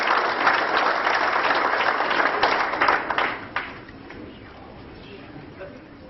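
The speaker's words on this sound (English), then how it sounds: "I think you deserve that round of applause." Audience applause at the grand final of the Barclays Colours of Life Award 2013, loud clapping that fades after about three seconds into quieter room sound with a few scattered claps.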